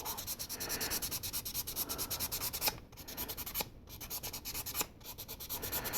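A sanding sponge rubs over the curved surface of a 1/8 Volks Super Sonico resin figure, making steady rhythmic scratchy strokes up close with a few brief pauses.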